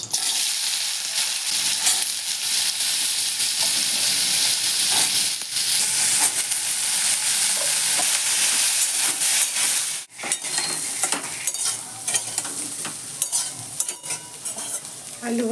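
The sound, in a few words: potatoes frying in oil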